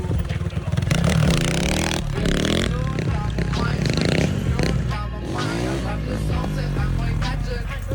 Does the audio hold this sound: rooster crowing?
no